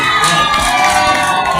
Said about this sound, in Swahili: Pigeni makofi ya vigelegele.